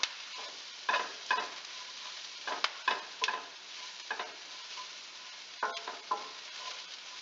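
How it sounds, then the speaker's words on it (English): Kale being stirred into a cannelloni filling mixture in a pan, with scattered scraping and rustling strokes over a faint sizzle, close and irregular, no voices. "Give it a good stir."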